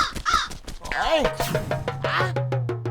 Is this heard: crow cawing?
yes